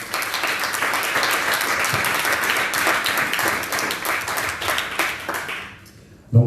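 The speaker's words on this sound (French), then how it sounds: "je vous demande juste de leur faire un petit tour d'applaudissement parce qu'ils le méritent vraiment." A press conference audience applauds a festival team with dense, steady clapping for about six seconds, then it fades out and ends with a sharp close thump.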